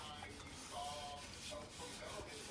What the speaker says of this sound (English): a nice stroke up and down the banister on all sides